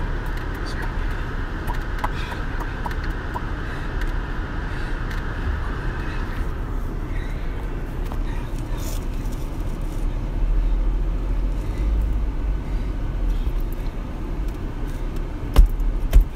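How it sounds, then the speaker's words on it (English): A car drives along at steady speed, its engine and road rumble a constant low drone, with a faint whine fading after a few seconds and a couple of sharp knocks near the end. "Let's drive fast, please."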